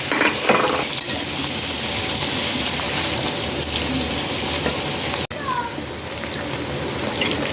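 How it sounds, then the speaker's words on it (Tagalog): Potatoes fry in pork oil with a continuous loud, hissing sizzle close by, holding steady throughout apart from a brief sharp break midway, and no voices. "Yan guys, sinalang ko na po yung patatas. Piprituhin ko lang po."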